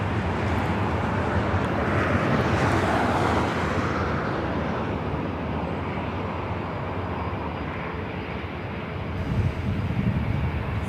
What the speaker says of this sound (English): Is the Asiana A380 Super coming in from Seoul